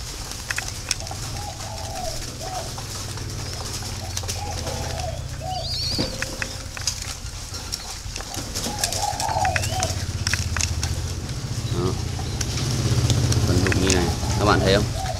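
Several young spotted doves coo softly in repeated short phrases, clustered together over a low steady rumble, with some calls overlapping and the background growing a little louder toward the end.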